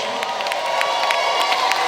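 A large crowd at a Ghana citizenship ceremony cheers and whoops, with sustained roaring voices and sharp bursts of clapping filling the space, steady and lively without a clear single speaker.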